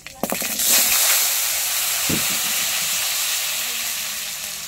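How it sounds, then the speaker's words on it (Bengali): Hog plums hit hot oil seasoned with dried chilli, bay leaf and five-spice, bursting into a loud, close, steady sizzle after a few sharp crackles, then hissing on and slowly easing. "এবার আমড়াগুলো দিয়ে দেবো।"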